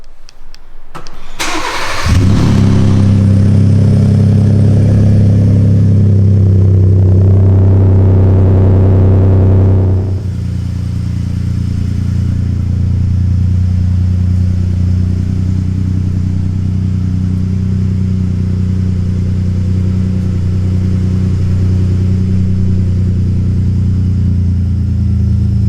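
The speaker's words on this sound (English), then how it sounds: "Let's do the cold startup." Ford F-150 V6 EcoBoost cold-starting through a Magnaflow exhaust with the resonator deleted: a loud crank catches into a strong high rev flare, then settles around ten seconds into a steady, deep, droning fast idle.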